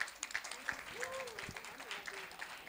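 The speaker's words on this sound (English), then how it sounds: "Big round of applause for Karan and Meera." An audience at a book launch claps in a short burst of moderate applause, heard from within the room with some voices mixed in.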